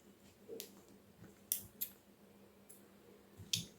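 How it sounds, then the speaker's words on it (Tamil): Scissors trim excess thread from a handmade flower brooch, giving a few sharp, close snips spread across a quiet background with no talking. "எக்ஸஸாக இருக்க த்ரெட்டை வந்து கட் பண்ணி எடுத்துடலாம்"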